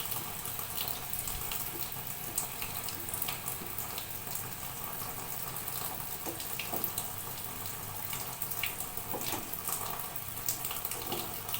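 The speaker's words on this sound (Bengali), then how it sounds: "মিক্সির বাটি ধোয়া জলটাও দিয়ে দেবো।" Water from rinsing a mixer-grinder bowl is poured into a cooking pan with ground coriander, turmeric and Kashmiri chilli, a steady splashing and trickling wash that runs for several seconds, close and continuous, with no talking.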